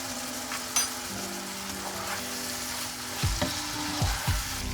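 Liver frying in hot oil with pepper, giving a steady close sizzle throughout and a few louder stirring clatters toward the end.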